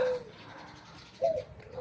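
Two pet doves cooing nearby, a soft low coo at the start and another about a second later, over a quiet room background.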